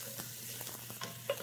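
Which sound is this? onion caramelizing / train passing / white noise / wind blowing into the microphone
onion caramelizing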